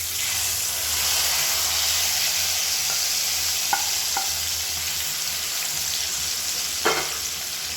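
Fried chana dal tempering sizzles in oil within tamarind paste for puliyodharai, giving a steady, close hiss of frying broken by a few faint clicks of stirring.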